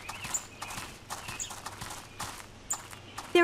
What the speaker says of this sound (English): There are horses here too.